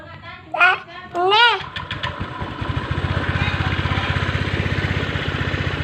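A Honda Vario 125 scooter engine cranks and catches, then settles into a steady, rapid idle putter close by; a couple of short voice sounds come just before it starts.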